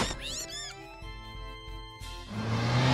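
A cat in the Bad Cat video game's Halloween event gives a couple of rising, wavering meows, close and clear, followed by a sustained electronic tone with other game sounds.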